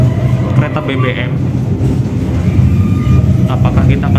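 Inside the Taksaka train at Bumiayu station, a steady loud rumble of rolling carriages fills the space as it crosses a fuel train, with faint clacks and muffled voices underneath.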